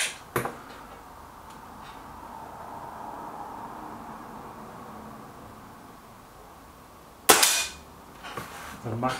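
A Kral Puncher Maxi air rifle fires at targets, with sharp, close cracks at the start and near the end and quiet background hiss between shots.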